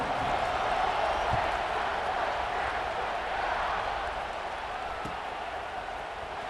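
A stadium crowd at a football game makes a steady, dense roar before a kickoff, holding at an even level throughout.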